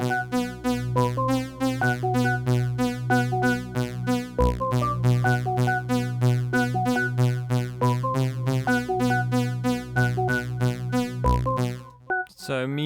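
Layered synths: a rhythmic mid-range pluck pulses steadily over a high Skyline pad and a sustained held-note pad, forming a dense, continuous electronic texture that cuts off near the end.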